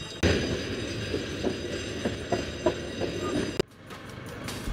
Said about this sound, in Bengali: ট্রেন আসার সময় হয়েছে।